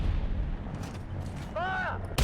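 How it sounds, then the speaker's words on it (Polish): A single loud cannon shot from a QF 3.7 Ram tank gun in the War Thunder video game, a sharp boom followed by a rumbling decay, then a brief mechanical whine and a click at the end. "I tym strzałem go dobijemy."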